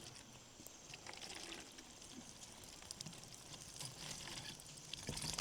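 Water pours into a bottle in a faint, steady trickle outdoors, a soft splashing wash with small drips and no voices.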